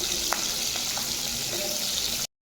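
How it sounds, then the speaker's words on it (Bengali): Fish frying in oil in a pan, a dense, even sizzle with a few small pops and crackles, close and continuous for about two seconds before cutting off, with no talk. "দেখতে পাচ্ছ মাছটা কিন্তু খুব সুন্দর, দেখো লাল লাল করে ভাজা হয়ে গেছে।"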